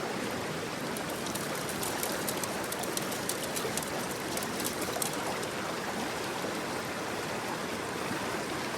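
Steady rushing river water pours through a gold sluice on the Sauk River, a continuous broadband wash with faint bird chirps above it, close and even throughout.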